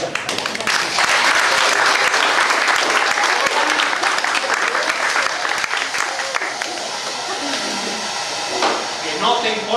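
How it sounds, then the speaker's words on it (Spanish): Audience applause fills a dim talk-in-a-bar science event, dense and steady clapping from a crowd that swells loud and sustained before thinning slightly toward the end. "Un aplauso."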